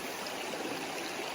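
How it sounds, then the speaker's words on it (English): A small creek flows in a steady, dense rush of water, continuous and close with no pauses. "And love this little creek."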